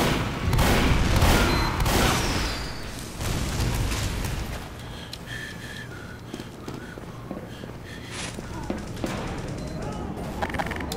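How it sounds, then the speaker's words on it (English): Sentry gun firing in Team Fortress 2, a dense burst of rapid automatic shots and booms loud at first, then fading into scattered gunfire and game noise, with speech mixed in. "Sentry going up! It should kick in and then gun him down."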